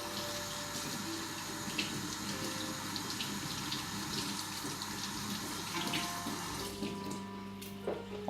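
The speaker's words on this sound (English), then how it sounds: "And also give the knife a little wash." A kitchen knife rinsed under a running tap into a sink, a steady close water stream with slight splashing changes as the blade moves through it.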